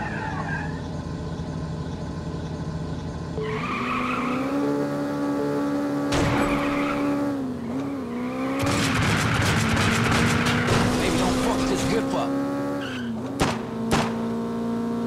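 Game cars race through streets, a loud engine drone climbing and dropping through gears, broken by squealing tires and sharp crashes or gunshot-like bangs in the second half.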